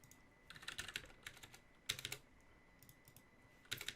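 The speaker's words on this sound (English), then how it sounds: "log in as admin, type in text" Computer keyboard typing text in quiet bursts of quick key clicks separated by short pauses, close and soft.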